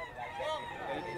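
A rooster crows close by, one sustained harmonic call spanning the short moment, with a faint murmur of voices behind it.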